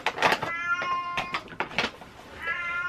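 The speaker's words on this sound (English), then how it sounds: "That's my cat." A domestic cat meows repeatedly, several short, close, fairly loud calls in quick succession with no talk over them.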